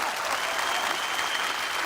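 Steady applause from a studio audience of women on The Kapil Sharma Show, a dense even wash of clapping held at a constant level throughout with no break.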